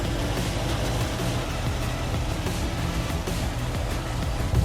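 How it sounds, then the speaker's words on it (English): A lumpy, uneven idle from an HSV VE Maloo R8 V8 with new cams and lifters at about 240,000 km, a steady loud rumble running throughout with no voices. "Listen to that. This car's had new cams and lifters put into it just under 12 months ago. It sounds super lumpy."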